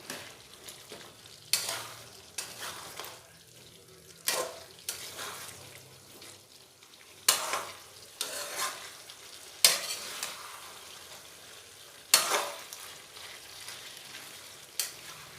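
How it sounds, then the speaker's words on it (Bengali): Chopped fried coconut, cashews, poppy seeds and melon seeds stir-fried in a pan, with a steady sizzle broken by repeated scraping strokes of a spatula at irregular intervals, close and alone. "এবার ওতে দিয়ে দেব ভেজে রাখা নারকেল কুচিগুলি। 3-4 মিনিট একটু নাড়াচাড়া করে নেব।"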